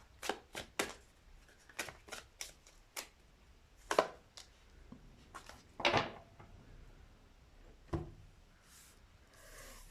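Tarot cards are shuffled and drawn during a pick-a-card reading: a dozen or so sharp, separate slaps and riffles, some close and fairly loud, spread irregularly with quiet gaps and no talking.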